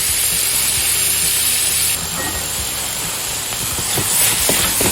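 Onions and whole cleaned, dried morels sizzle loudly in a pan, with sugar and water added, giving a steady broadband hiss that fills the whole clip and steps down slightly partway through.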